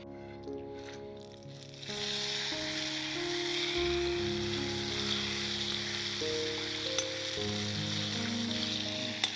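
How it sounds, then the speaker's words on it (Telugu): Cashews fry in a couple of spoonfuls of ghee for chicken haleem, giving a steady close sizzle that carries on throughout with a few light stirring scrapes. "ఒక 2-3 చెంచాలు నెయ్యి వేసుకొని జీడిపప్పు వేపుకుందాం అండి"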